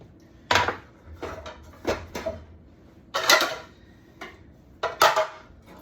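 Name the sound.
frying pan being handled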